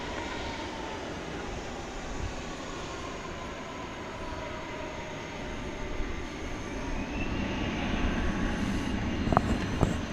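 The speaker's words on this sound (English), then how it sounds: "The discount airline coming in from Las Vegas, Nevada, flight 2703 on an Airbus A320neo" Airbus A320neo airliner on landing approach at DFW Airport at night, a faint, steady engine rumble from a distance that grows slightly toward the end, with a few small clicks near the close.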